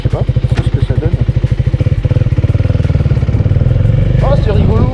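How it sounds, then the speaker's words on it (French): VOGE motorcycle engine starting and running, a loud, close, rapid thumping idle with throttle blips that settles into a steady rhythmic chug, with brief voices over it. "là on est sur une moto, on démarre"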